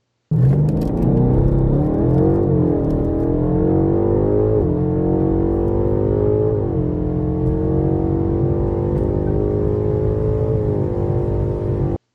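A BMW M850i V8 starts up and revs, climbing and dropping in pitch with a deep, loud, steady engine drone close by for about twelve seconds.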